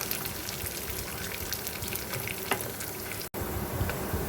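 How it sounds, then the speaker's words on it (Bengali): Corn kernels fry in a pan until crisp and darkened. A dense, even crackling sizzle runs throughout, with a brief cut-out just before the end. "এই তো আমার ভুট্টাগুলো এখন হচ্ছে ভাজা শেষের দিকে, একদম ক্রিস্পি হয়ে গেছে"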